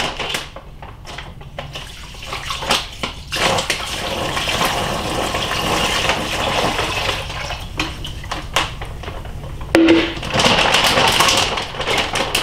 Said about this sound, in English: I'm going to pour my apple cider in.